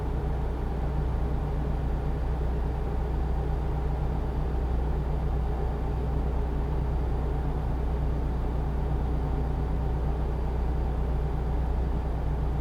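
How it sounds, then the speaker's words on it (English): A truck engine in the video game American Truck Simulator drones as a steady, loud, low rumble with a constant hum that holds unbroken throughout. "for the first time, the truck is louder than the song"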